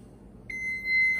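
A kitchen timer for hard-boiled eggs gives a single sustained electronic beep that starts suddenly and holds steady, close and fairly loud, over faint room noise.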